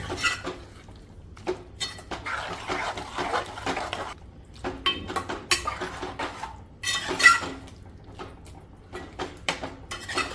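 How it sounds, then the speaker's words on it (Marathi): Chole gravy stirred in a metal pot, with a spoon scraping and clinking against the sides in irregular bursts, close up, with quieter pauses between strokes. "मिक्स करून घेते"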